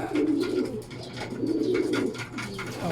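Homing pigeons coo in repeated low, throaty bursts during a training toss in Sariaya, Quezon, the calls steady and fairly close over faint background noise.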